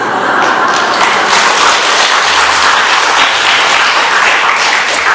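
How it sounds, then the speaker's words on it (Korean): A church congregation clapping during a Sunday worship service, loud and continuous, a dense, close wash of hands that holds steady throughout. "우리 교회에서는 이 정도 하면 박수를 칠 때가 됐는데"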